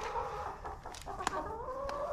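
Chickens cluck softly and continuously in the background, with a few sharper clucks standing out; quiet and close, no talking.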